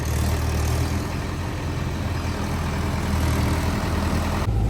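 A tractor engine idling on a farm, a steady low diesel rumble that stays constant and close for the whole stretch before cutting off sharply at the very end.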